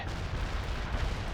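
Rapid gunfire and booming artillery in the World in Conflict war strategy game, a dense continuous barrage filling the whole moment with heavy low thuds.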